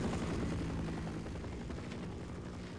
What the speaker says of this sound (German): Helikopterverfolgung, sagt ihr.